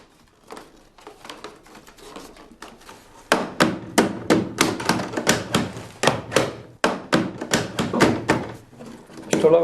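Repeated sharp taps packing down a handwoven chestnut-strip basket to tighten the weave, struck with a traditional basket-maker's tool; a steady, fairly loud series of knocks, softer at first and then louder and more regular.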